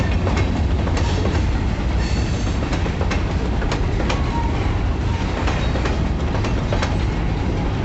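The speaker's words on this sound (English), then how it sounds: "here's where the grain train starts." A grain train rolls past on the railroad near a highway in Idabel, Oklahoma, a loud, continuous rumble with rhythmic clickety-clack of wheels over rail joints throughout.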